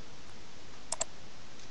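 A computer mouse gives two quick, crisp clicks close together on a filter button in dictionary software, sharp and near against a quiet background.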